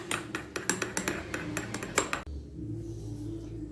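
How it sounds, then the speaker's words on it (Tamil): A spoon stirs hot milk into coffee in a cup for a homemade cappuccino, giving quick, bright metallic clinks in a steady rhythm for about two seconds before stopping, leaving a low hum. "பால் சேர்த்துட்டு நம்ம நல்லா கலந்து விட்டுக்கலாம்."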